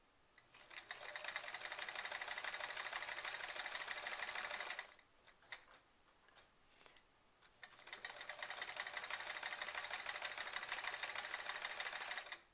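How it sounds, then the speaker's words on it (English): Sewing machine doing dense free motion quilting on a sampler quilt, a fast steady whirring rattle in two long runs separated by a brief pause with small clicks. "I'm stitching pretty densely, which means all of my stitching is pretty close to each other"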